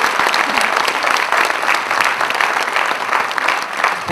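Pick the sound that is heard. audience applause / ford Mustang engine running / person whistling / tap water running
audience applause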